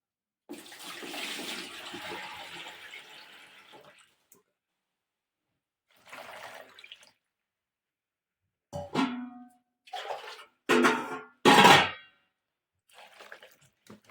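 Water sloshes and splashes in a bowl in several short, close bursts as mushrooms are rinsed, separated by quiet pauses.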